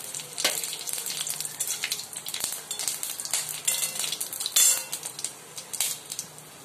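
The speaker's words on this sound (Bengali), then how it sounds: "তেলটা গরমই হয়ে গেছে, এতে একটু ফোড়ন দিয়ে দেবো, জিরে, শুকনো লঙ্কা" Cumin seeds and dry red chillies sizzle loudly in hot mustard oil, a steady close crackle with sharper pops and a brief clink of a utensil against the pan.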